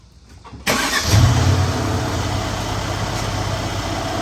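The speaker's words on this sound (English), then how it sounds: "now we're going to start the car" A Mercedes CLS550 engine cranks and catches with a sudden roar, then settles into a steady, loud idle close by.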